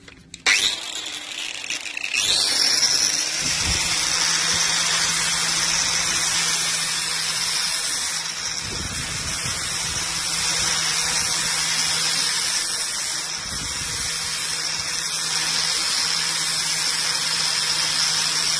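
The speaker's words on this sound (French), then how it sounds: "le disque à lamelles avec une meuleuse électrique" An electric angle grinder with a flap disc sharpens rotary tiller blades, spinning up with a high whine and then grinding steadily with a bright, hissing rasp, close and continuous, with slight dips as pressure changes.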